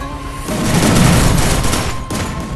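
Loud, close burst of rapid automatic gunfire in a mobile battle royale shooter, a dense fusillade lasting about two seconds before cutting off abruptly.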